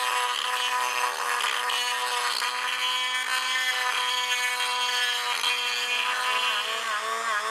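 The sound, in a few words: rotary tool with fine bit grinding motorcycle cylinder head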